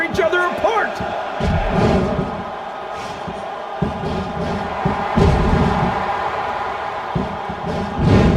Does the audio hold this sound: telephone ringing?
no